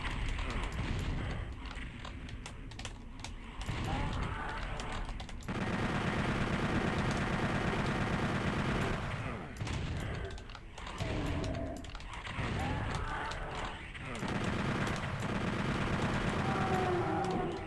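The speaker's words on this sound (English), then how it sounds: "here's the end of the map, so I'm going to use the chain gun for this" Chain gun fire in the Doom 64 Retribution video game rattles out in long, loud, dense bursts separated by brief pauses, with heavy mechanical clatter throughout.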